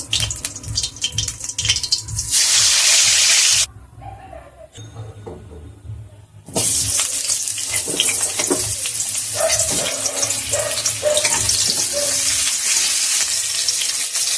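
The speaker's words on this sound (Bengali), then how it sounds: "ওই তেলেই আমি আলুগুলো ভেজে নিচ্ছি।" Potato pieces fry in the hot oil left from frying fish, a loud, steady sizzle that cuts out briefly in the middle, with quieter clatter, then resumes strongly.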